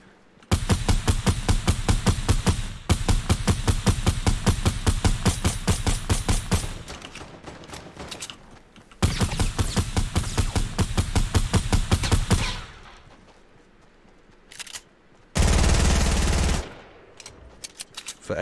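Rapid automatic gunfire in a shooting video game as a player fires on an enemy base, long loud bursts separated by short pauses, then a lone heavy blast near the end.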